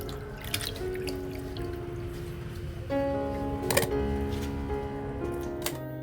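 Malabar tamarind (kudampuli) being washed in water, soft splashes and drips with trickling water and a few light clinks, fairly quiet and close.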